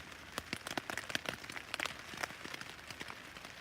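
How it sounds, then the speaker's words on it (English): Scattered light drips and patters fall irregularly at close range on the Appalachian Trail, a quiet, sparse spatter as rain winds down. "We just had rain come through."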